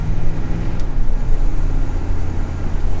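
A Chevrolet C10 squarebody pickup fitted with new bolt-on speed parts pulls away with a loud, steady, close engine rumble and low road roar.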